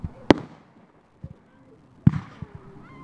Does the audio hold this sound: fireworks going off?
yes